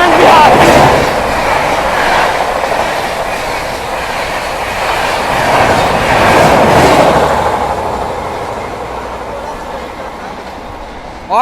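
A Haldia–Anand Vihar express train overtakes on the adjacent track, a loud, steady rush of rolling wagons with clickety-clack wheel rhythm, swelling as it passes close by and easing toward the end.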